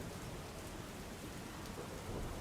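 Heavy monsoon rain pours down in Bhavnagar, Gujarat, as a dense, continuous wash of close rain noise with no talking, steady throughout the short stretch.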